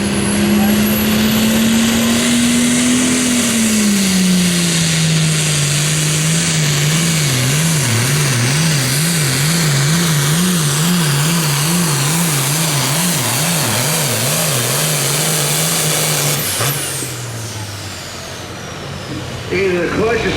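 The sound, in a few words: super farm tractor engine roaring during tractor pull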